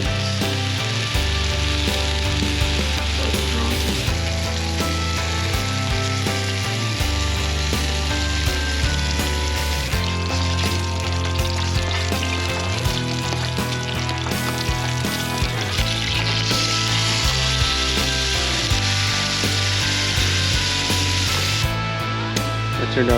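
Zucchini and onions frying in a pan at a jeep campsite, a loud steady sizzle and crackle running continuously with occasional scrapes and stirring knocks, close up with no talking.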